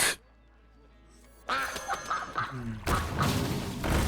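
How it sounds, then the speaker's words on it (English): The Mother Duck card in the Hearthstone video game gives a short burst of cartoonish quacks, followed by loud crashing, thudding game effects. "Here's the mother duck"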